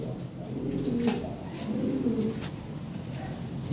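A pair of blue barless Lahori fancy pigeons with red beaks coo close by, two rolling throaty calls over a busy market murmur.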